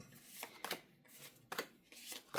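Tarot cards are shuffled in quick riffling bursts, four or five soft rushing flurries separated by brief pauses, close and fairly quiet.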